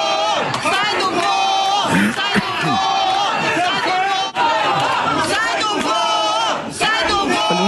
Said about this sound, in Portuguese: é possível ouvir as pessoas gritando: sai do voo, pro Barroso, né? E vaiando o ministro